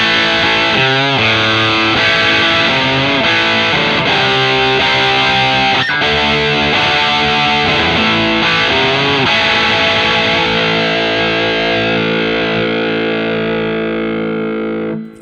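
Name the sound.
Eart Headless GW2 electric guitar, distorted tone, Alnico 5 pickups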